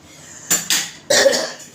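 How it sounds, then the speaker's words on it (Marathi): Two quick metallic clanks of a kadai being set down on the stove and shifted, close and fairly loud, over a quiet kitchen. "मी इथे कढई ठेवलेली आहे"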